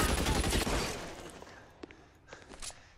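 Burst of gunfire in the video game L.A. Noire, a dense rattling fusillade that fades out within about a second, followed by a few faint scattered shots and clicks.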